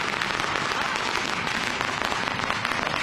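Firecrackers set off by party workers at an election rally crackle in a dense, continuous rapid popping, loud and close, with no voices standing out.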